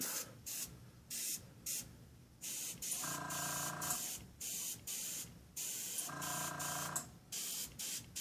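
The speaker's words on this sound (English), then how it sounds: "Make sure my airbrush is still spraying alright." An airbrush hisses in short bursts while painting graphics on a model car part, some with a mechanical whine behind them, separated by brief silences. The sound is close and fairly quiet.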